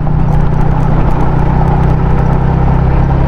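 A Kawasaki KLX dual-sport motorcycle engine running steadily on a rough bypass road, a loud continuous drone with rumbling low end and wind-like noise, close to the recording device throughout.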